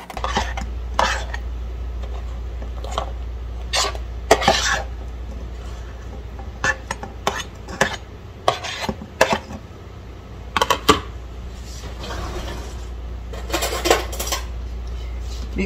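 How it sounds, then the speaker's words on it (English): Eggs and sausage going into a bowl, with repeated clinks and scrapes of a utensil against the dish in uneven bursts, close by. "I'll put the eggs and the sausage in the bowl first"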